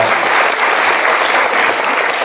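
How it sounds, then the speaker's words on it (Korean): Steady, dense applause from an audience fills the whole stretch, loud and continuous with no pauses. "다시 한번 뜨거운 박수 부탁드리겠습니다"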